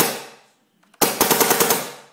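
A P90 airsoft gun fires a fast full-auto burst on air, a loud close rattle of rapid shots that follows a first sharp decaying blast and a short pause.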